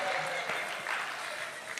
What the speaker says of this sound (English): Give her a big round of applause as she goes back to her seat